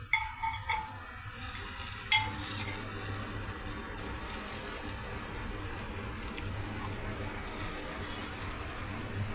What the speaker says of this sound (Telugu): మసాలాలతో మన ఎగ్స్ ఫ్రై అవుతున్నాయండి